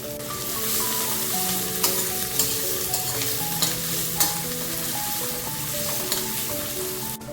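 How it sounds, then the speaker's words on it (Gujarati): Three finely chopped onions sizzle loudly in a chana masala tadka, with a continuous frying hiss and scattered stirring scrapes under steady background music. "હવે આપણે ત્રણ ડુંગળી મેં ઝીણી કાપી લીધી છે ડુંગળી એડ કરી દઈશું આપણે"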